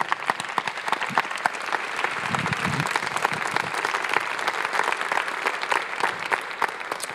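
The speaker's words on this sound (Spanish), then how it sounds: "Dale un fuerte aplauso a Jesús." Congregation at a church family service applauding loudly and steadily, a dense wash of many hands clapping for the full stretch without pause.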